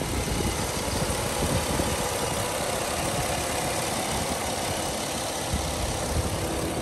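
Steady engine idle from a 2008 Jeep Wrangler Unlimited X 4x4 with the hood open, a constant close hum and rumble under the AC compressor cycling, with no talking.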